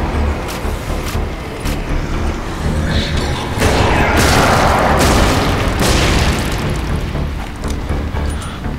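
Heavy shotgun blasts from the zombie shooter Nazi Zombie Army, a few sharp broadband bursts early then a louder sustained roar of gunfire and booms mid-clip, dense and close throughout.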